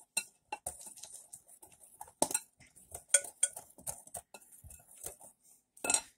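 Oatmeal cookie ingredients are stirred in a glass bowl, with quiet, irregular clinks and taps of a utensil against the glass and soft scraping between them.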